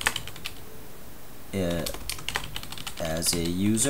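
Someone types on a computer keyboard to log in to a simple web application, with quick bursts of close key clicks heard between and under a man's speech.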